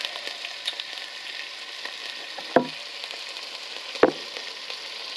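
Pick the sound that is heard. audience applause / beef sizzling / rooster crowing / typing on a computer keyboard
beef sizzling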